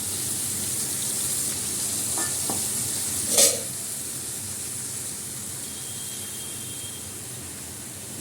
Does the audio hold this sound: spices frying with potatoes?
yes